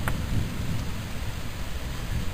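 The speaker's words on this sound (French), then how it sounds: "Ce qu'on devine avec les éclairs et le tonnerre au loin," A summer evening thunderstorm brings steady heavy rain, a dense even hiss with a low rumble of distant thunder underneath, continuous throughout and without any voices.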